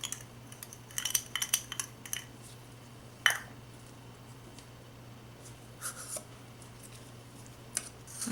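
A spoon stirs and scrapes melt-and-pour soap base in a container, giving close, quiet clinks and scraping strokes in bursts, with one sharper tap partway through and a faint steady hum underneath.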